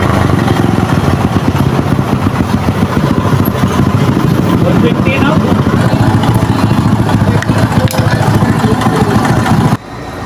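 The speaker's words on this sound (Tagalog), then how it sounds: "kahit anong adjust na natin sa kanyang karburador, asthmatic pa rin yung kanyang andar, pumupugak-pugak pa rin, parang inuubo" A motorcycle engine with a faulty carburetor idles unevenly, sputtering and coughing in a steady, close, loud run that stays rough despite adjustment, ending abruptly near the end.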